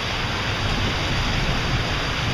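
Steady, dense rain pours down over a residential roofing job, a constant loud hiss with no pauses and no voices.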